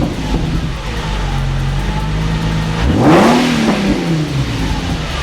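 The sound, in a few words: Nissan 350Z with Borla exhaust revving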